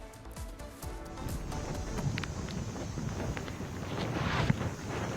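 Strong wind from Cyclone Dana after landfall blows as a steady, rushing roar with gusty buffeting, fairly faint and steady throughout, with no voices.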